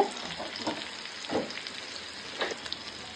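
Curry leaves sizzle in hot oil for a home-cooked fish curry: a steady crackling hiss with a few louder spitting pops, close and alone with no voices.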